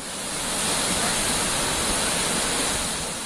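Muradiye Waterfall in autumn, about 90 kilometres from the city centre, pours in a steady, dense roar of rushing water that fills the whole clip at constant strength, with no voices.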